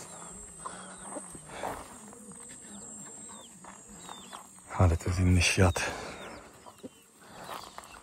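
Chickens cluck in the background of an outdoor village scene in Angola while a person talks over them, with scattered bird calls and some louder voices midway.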